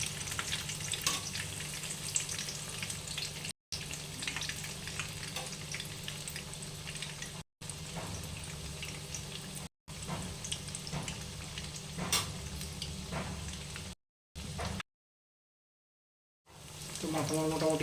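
Eggplant frying in a pan sizzles steadily with occasional stirring scrapes, fairly quiet and broken by short gaps of silence, while voices talk intermittently in the kitchen.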